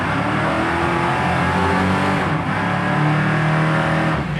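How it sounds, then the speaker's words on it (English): A loud 1968 Chevy Nova engine revs continuously, pitch rising and shifting as it runs up through the gears, close and steady. "I'll just go through the gears really quickly"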